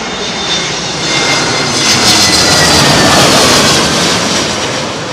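A loud, steady roar of jet aircraft engines, broad and rushing, swelling slightly in the middle as the plane passes close by.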